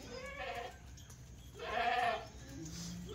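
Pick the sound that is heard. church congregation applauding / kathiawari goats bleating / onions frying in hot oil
kathiawari goats bleating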